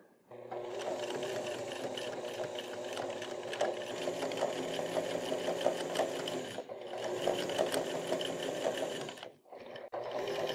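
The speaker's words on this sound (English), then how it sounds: "An extra zigzag stitch on the end here for some added strength." A sewing machine zigzag-stitching the end of a waxed canvas backpack strap, running in a fast, steady whir with a brief pause midway and a stop near the end. The sound is close, with no talking.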